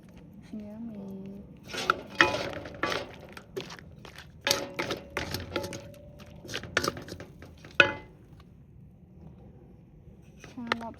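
Lobster with ginger is stir-fried in a pan, with irregular metallic clanks and scrapes of a utensil against the pan, crunchy cracks and short tapping bursts, mixed with background noise.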